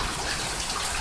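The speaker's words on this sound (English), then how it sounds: "it's just pouring off the back of the house, making a nice little flood" Heavy rainwater pours off the back of a house during a Tampa thunderstorm, a dense unbroken wash of water noise heard up close without any voices.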